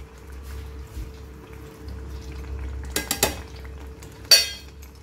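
Malvani chicken sukka stirred in a pan after salt goes in, with a spoon clinking and scraping against the metal in a few sharp knocks over a low, steady background hum.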